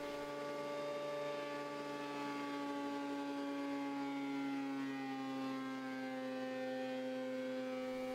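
A Craftsman planer milling rough white oak gives off a steady, faint, tonal motor whine and hum, sustained without pause and heard from a moderate distance.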